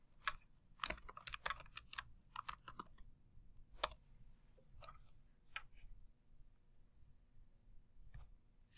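Typing on a computer keyboard in a quiet room, with bursts of quick key clicks and a few isolated taps spread across the stretch, close and fairly soft.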